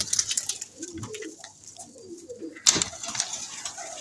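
Pigeons in a loft, a flock of young birds, cooing softly and intermittently at close range, with a brief louder burst of fluttering or rustling midway.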